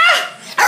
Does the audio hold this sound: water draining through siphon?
no